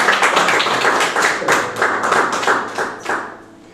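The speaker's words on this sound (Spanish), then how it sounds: "dale un aplauso a Dios, dale un aplauso" A church congregation applauding together, a loud burst of many hands clapping in roughly rhythmic pulses that thins and fades out toward the end.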